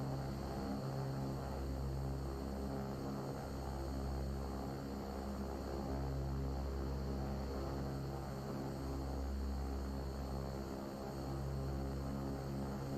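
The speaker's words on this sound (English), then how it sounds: "We got a nice sunset takeoff here." Turboprop engines of a Beechcraft King Air 350 in the X-Plane 12 flight simulator roar steadily through a sunset takeoff, a loud, constant drone with a pulsing low hum and no talk.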